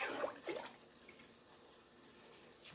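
Grease draining from cooked hamburger meat, a couple of brief liquid pours and splashes at the start, then a faint, quiet trickle fading into near silence with one small clink at the end.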